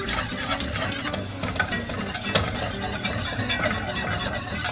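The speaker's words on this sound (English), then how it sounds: "Just keep stirring it." A cheese souffle base stirred in a pan, with a spoon scraping and clicking in quick, uneven strokes over a soft sizzle, close by and with no talking.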